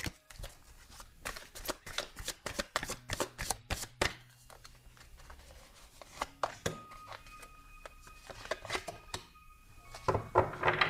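Tarot cards shuffled by hand in a series of crisp, quick riffling bursts and soft slaps, close and fairly quiet, with short pauses between flurries and no speech.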